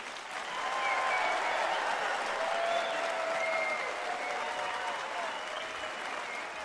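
Sustained audience applause at an MLK Beloved Community Awards ceremony, a dense, steady wash of many hands clapping that stays loud throughout, with faint voices mixed in.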